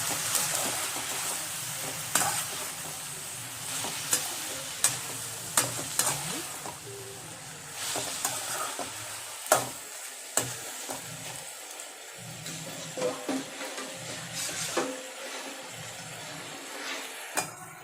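Ingredients for Bombay chutney sauté in a pan, with a soft sizzle broken by repeated sharp knocks and scrapes of a spoon stirring against the metal at an irregular pace.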